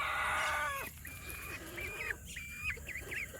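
A Red Ranger rooster clucks in short, tonal calls that rise and dip, after a brief burst of louder squawking at the start, with a steady background of other birds and barn hum.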